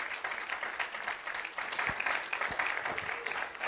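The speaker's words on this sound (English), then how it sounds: "Applause to the Lord" Congregation applauding during a church service sermon, a broad wash of clapping with a few sharper individual claps standing out, fairly soft and distant.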